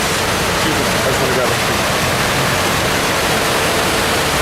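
A waterfall in New York City roars steadily, a dense continuous rush of water that fills the whole scene without pause.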